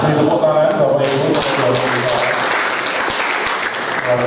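Audience applause following a talk at an evening discussion event, a full burst of many hands clapping that swells and continues steadily, with a voice speaking briefly underneath at the start.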